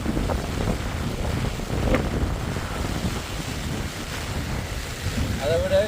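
Floodwater pours over a bridge near Jaffna in a dense, continuous roar close to the microphone, mixed with heavy wind buffeting and no clear voices.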